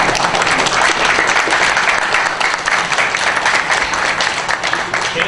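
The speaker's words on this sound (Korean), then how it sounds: "네, 박수를 치셨나요?" A town hall crowd claps loudly and continuously, a dense, sustained burst of applause from many hands filling the room from start to finish.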